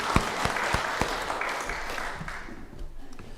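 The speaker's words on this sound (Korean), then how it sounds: "박수합니다." A church congregation at a Korean Methodist Sunday worship service applauds after a closing prayer, a short burst of clapping with a few sharp claps standing out, fading within a few seconds.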